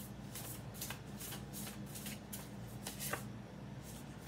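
Tarot and oracle cards being shuffled in a steady run of soft riffling bursts, close and fairly quiet, with no voices over it.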